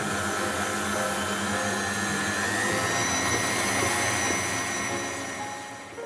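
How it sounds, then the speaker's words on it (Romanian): A stand mixer with a dough hook kneads stiff dough at low to medium speed, a steady loud motor whir that stays constant throughout, with no voices. "Am echipat robotul cu cârligul special pentru aluaturi și dăm drumul la frământat, la viteză mică, medie"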